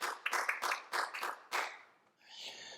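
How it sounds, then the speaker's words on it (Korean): A worship service congregation gives a short round of applause to God, about a dozen fairly close claps that stop abruptly, followed by a brief spoken voice. "우리 하나님께 영광의 박수 올리겠습니다"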